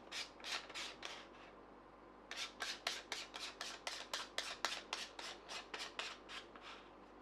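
Repeated short rasping scrapes as a metal adapter ring is screwed onto a Haida 150mm filter holder, a few strokes then a quick run of rhythmic twists, close and fairly quiet.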